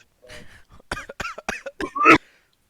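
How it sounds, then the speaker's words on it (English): A run of loud, forced coughs from one person, close up, building to a strong final burst before silence. "you want to hear how loud I can cough?"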